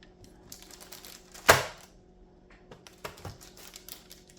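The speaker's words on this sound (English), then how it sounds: "cut this up, and do so with a knife" Knife cutting through firm, set homemade two-ingredient fudge, about half an inch thick: one sharp, loud crunching cut stands out, followed by a few fainter clicks and taps against the board.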